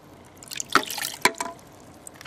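Water trickling and dripping in a shishi-odoshi bamboo fountain, a few close, bright drip splashes and a short gurgling run over a quiet background, with no talking.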